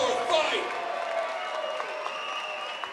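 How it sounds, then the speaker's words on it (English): Audience applause fills an arena after a featherweight bout at a regional fighting championship. Crowd clapping and a few cheers sound under a ring announcer's amplified voice, fading slightly toward the end. "a big round of applause for another great back and forth fight"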